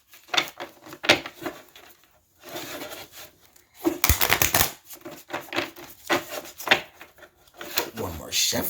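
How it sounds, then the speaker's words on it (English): Cards riffled and shuffled in repeated bursts of papery flapping and rubbing, close by, with short pauses between rounds. "we shuffling the deck for some angel messages"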